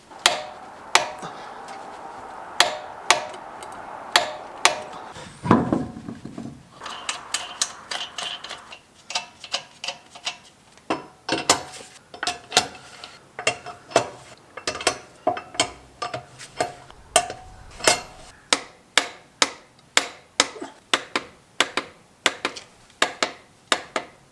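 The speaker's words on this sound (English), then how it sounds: "So now I'll bring in the torque wrench and see if I can get this torqued up to 177 foot-pounds." A torque wrench ratchets a Chevy Suburban wheel hub toward 177 foot-pounds during a wheel bearing replacement, giving a long, steady series of sharp metallic clicks with no talking.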